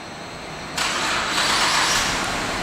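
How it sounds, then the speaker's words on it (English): A 2011 Cadillac CTS Coupe engine cranks by remote start and catches, settling into a steady, fairly loud idle after a brief quiet start. "And the car turns right on."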